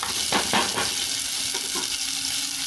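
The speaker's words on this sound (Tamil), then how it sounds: "வெங்காயம் தக்காளி நல்லா வதங்கட்டும்." Onion and tomato sauté in oil in a pan for a brinjal kuzhambu, producing a continuous close sizzle with a few soft scraping stirs.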